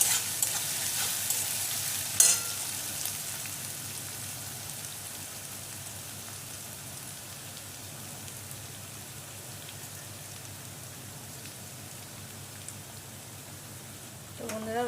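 Garlic paste frying in hot oil in a pan, a constant close crackling hiss that stays even for the whole stretch, with a brief clatter near the start and a faint stir at the end.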